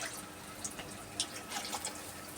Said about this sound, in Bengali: আর একটু সামান্য জল দেবো